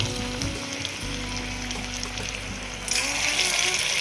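Sweet corn pakoda batter being dropped into hot oil, with a loud, steady frying hiss throughout that grows brighter and fuller near the end as more batter goes in.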